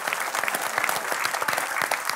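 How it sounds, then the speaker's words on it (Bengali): A studio audience at a Bangladeshi TV talk show applauding loudly, with dense continuous clapping for about two seconds. "সো অডিয়েন্স, তোমাদের জন্য জোরে একটা তালি"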